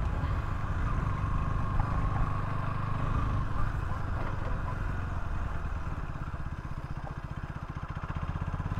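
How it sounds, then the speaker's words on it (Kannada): A new KTM Duke 160 motorcycle on a test ride, its engine droning steadily and fairly loud throughout with a rougher, pulsing throb building toward the end, no voices. "ಈ ಒಂದು ಹೊಸ ಡ್ಯೂಕ್ 160 ಒಂದು ಟ್ರಯಲ್ ನೋಡೋಣ ಹೇಗಿರುತ್ತೆ ಅಂತ ಹೇಳ್ಬಿಟ್ಟು"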